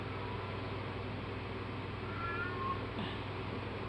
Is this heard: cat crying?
yes